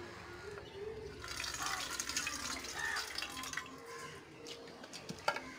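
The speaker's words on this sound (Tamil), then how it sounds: "ஒரு கழனி எடுத்து ஊற்றிக்கிறேன்" Rice-washing water poured in a home kitchen, a soft splashing, trickling flow into a vessel that rises and falls over several seconds, fairly quiet and close.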